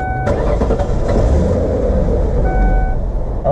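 A Ford Taurus engine runs steadily just after starting, a loud close idle with a sharp onset at the start and a constant low drone, no talking.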